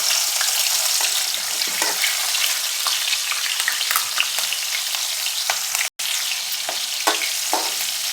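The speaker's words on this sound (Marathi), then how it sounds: "त्यात मिरच्या घालूया आपण." Green chilies fry in hot oil with mustard seeds, a loud, dense, continuous sizzle with scattered crackles and pops, close up and without talk.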